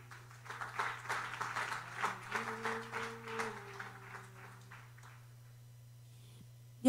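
A crowd claps in a steady patter for several seconds, fading out, over a constant low hum.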